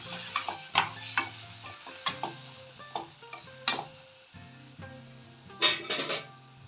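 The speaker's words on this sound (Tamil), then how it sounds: "மஷ்ரூமை சேர்த்து நல்லா வதக்கிக்கலாம்" Mushrooms with cumin, chili powder and turmeric sauté in a pan for a veg biryani, a soft sizzle running underneath while a spoon scrapes and clinks against the pan in repeated close strokes.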